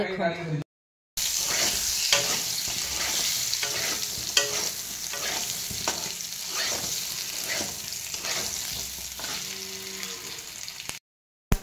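Dal being tempered with spices dropped into hot oil, a loud continuous sizzle and crackle with repeated stirring scrapes, cut by a brief silence near the start and end.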